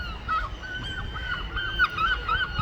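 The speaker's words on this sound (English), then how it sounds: "The seagulls are being noisy." Seagulls at a summer beach call noisily, with repeated harsh honking cries rising over steady background ambience and wind.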